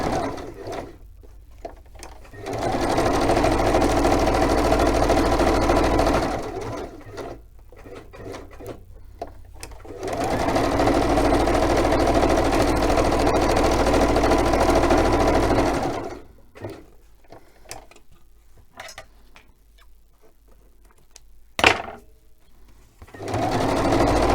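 A home sewing machine threaded with dark grey on top and an off-white bobbin stitches in three sustained bursts of a few seconds each, with a steady close whirring hum and short quiet pauses between runs.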